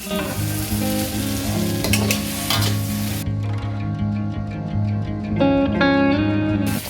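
Dry beef, its oil already cooked off, goes into a pan for beef macaroni and fries, giving a continuous loud sizzle with stirring scrapes, while tonal background music plays underneath.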